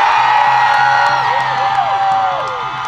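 Crowd at a rally for missing and murdered people screaming together, a loud sustained mass of many voices with rising and falling shrieks and whoops, close and continuous.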